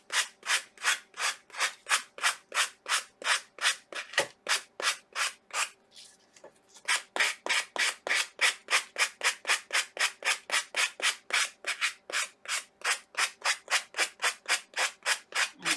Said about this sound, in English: As you're sanding,